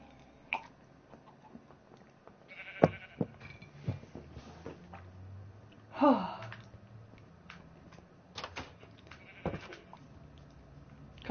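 A sheep bleats in a few short, scattered calls, with one clearer cry standing out against a quiet, low background.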